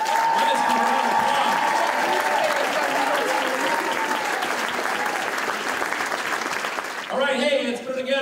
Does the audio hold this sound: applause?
yes